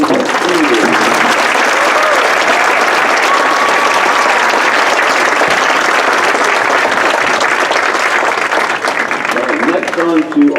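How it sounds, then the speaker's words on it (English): A school band's Meet the Band Night audience applauds the outstanding seniors with steady, dense clapping that holds for about ten seconds at full strength and starts to thin only at the very end. "How about a round of applause for the outstanding seniors?"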